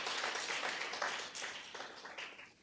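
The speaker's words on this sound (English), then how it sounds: "I think they deserve a round of applause." Audience applause at the Women In Sport Conference for the task team: a dense wash of clapping that holds at moderate loudness, then thins and fades toward the end.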